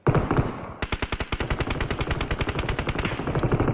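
Automatic gunfire in PUBG: a brief burst, a short pause, then a long rapid string of evenly spaced loud shots, near and alone without talk.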